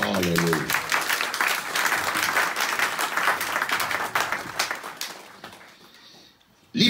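A church congregation applauds during a French-language sermon, brisk clapping that follows a short spoken line, holds steady, then tapers off into near silence before a voice resumes.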